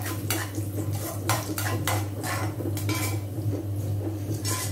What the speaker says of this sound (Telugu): ఇప్పుడు కొంచెం డ్రై ఫ్రూట్స్ వేయించుకుంటాను.